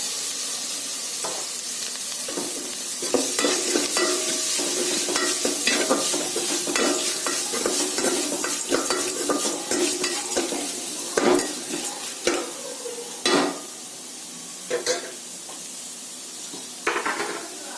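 Chundal of black-eyed peas with curry leaves and grated coconut is stirred in a pan, with steady scraping and soft sizzling broken by sharper clinks of the spoon against metal, close and fairly loud.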